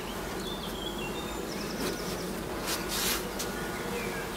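Honeybees shut inside a closed hive buzz in a continuous, even drone, close and fairly quiet, with a few louder surges of wingbeats and no talking.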